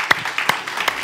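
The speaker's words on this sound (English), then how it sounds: "Give the Lord a clap offering" A church congregation at a Sunday service claps in unison, producing three distinct, evenly spaced claps, loud and close, with a quiet room between them.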